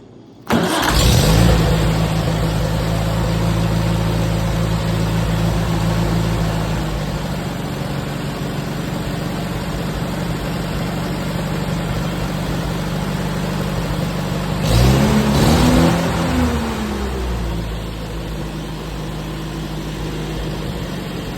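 An IH Farmall 230 tractor engine cranks and catches, then runs at a steady loud rumble near the listener, with a second burst of revving about two-thirds through before settling back to a running idle.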